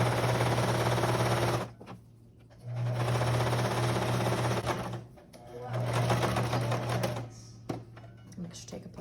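A sewing machine hems a t-shirt sleeve in three bursts of rapid, buzzing stitching, each about two seconds long. Short pauses fall between the bursts, and someone talks quietly during the gaps.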